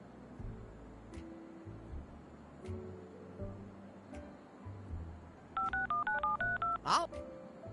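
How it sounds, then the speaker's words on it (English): A telephone keypad gives a quick run of dialing tones near the end. Faint background sounds come first, then a final louder beep. "Okay, what should I dial?"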